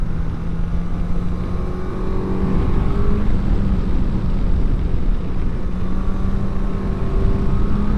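Suzuki GSX-S1000GX four-cylinder superbike riding at speed, a steady buzzy engine drone with faint gear-shift pitch changes under rushing wind, no talking.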